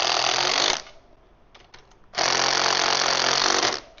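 A power tool tightens bolts on the rear basket of a 2026 electric tricycle during assembly, in two loud, sustained buzzing bursts separated by a short quieter gap with a few faint clicks.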